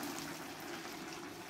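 Water pours into a pot of rice cooking for a chicken and pequi dish, a steady, fairly loud rushing hiss that holds without a break from start to end.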